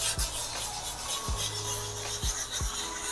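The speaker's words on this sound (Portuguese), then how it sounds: "eu venho lixando, ó, em sentido rotativo aqui" Close, continuous rasping of sandpaper rubbed in circular motions over a surface, with low thumps recurring every second or so as the hand moves.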